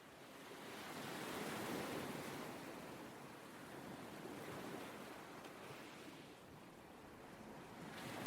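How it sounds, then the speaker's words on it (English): Steady ocean surf washing ashore with a soft sea breeze in the New Zealand wilderness, continuous and fairly distant, broad and hushed with no voices. "The sound of the surf in the background and the gentle caress of the ocean breeze create a sense of deep relaxation and peace."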